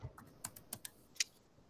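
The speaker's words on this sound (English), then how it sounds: "if I can get my keyboard set up over here on this side" Several separate keystrokes on a computer keyboard in a classroom, irregular and fairly faint, with no talking.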